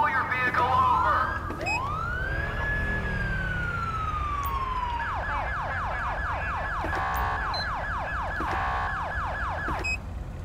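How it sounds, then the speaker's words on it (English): A police car siren in GTA 5 with the LSPDFR mod, loud and continuous: a long rising and falling wail that gives way to a rapid repeating yelp, with a low engine rumble underneath. "Now I don't have the same siren as the Charleston Police Department"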